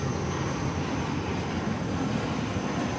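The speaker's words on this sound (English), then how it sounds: "787-8 Dreamliner, and here it comes" A Boeing 787-8 Dreamliner coming in to land at DFW Airport gives off a steady, broad jet roar that holds level and fairly loud throughout, with no voices over it.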